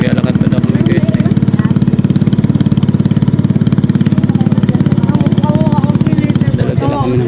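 A boat engine runs with a loud, steady low chugging pulse as a family arrives at the far shore, continuous and close before it cuts out near the end, with voices talking over it.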